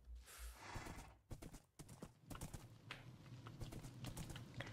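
Horse hooves clip-clopping and a whinny in a video game, close and busy with irregular hoof strikes, plus a burst of computer keyboard typing underneath.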